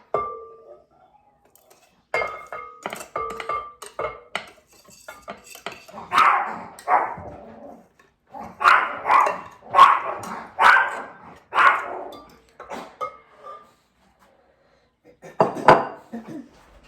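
A dog barks repeatedly in a home kitchen during chocolate chip cookie baking, several sharp close barks in bursts, mixed with clinks of dishes and utensils.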